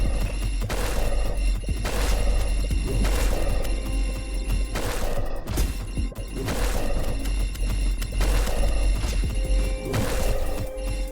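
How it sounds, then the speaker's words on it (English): Explosions in the Marsh Pets video game, repeated heavy bursts and crashes every second or two over a dense, loud game soundtrack, with no talking. "So let's do explosions."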